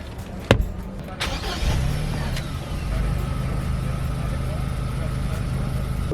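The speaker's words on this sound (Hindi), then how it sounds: "आप देखेंगे हमने गाड़ी को स्टार्ट करा, काफ़ी साइलेंट है।" A 2021 Mahindra Thar top-model petrol automatic starts with a sharp click, then its engine catches and settles into a smooth, quiet, steady idle heard from inside the cabin.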